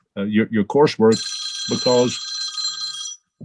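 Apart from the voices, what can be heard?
old-fashioned telephone ringtone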